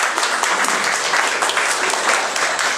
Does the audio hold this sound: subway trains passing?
no